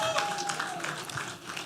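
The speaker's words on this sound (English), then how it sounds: "Please, a round of applause for yourself first." Conference audience at a realtors' event claps for themselves, a dense, steady patter of many hands filling the room at moderate distance, with faint voices mixed underneath.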